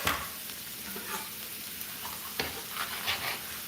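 Onions fry in a pan, giving a soft, steady sizzle. A scraper stirs through the pan now and then, adding a few short scrapes and clicks at a fairly quiet level.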